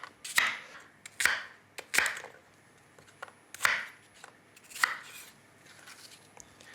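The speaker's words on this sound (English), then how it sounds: "Got some green apples here. We're going to cut them in chunks" A knife cuts green apples into chunks on a board, with six sharp, close chops at uneven intervals over a quiet background and no talking.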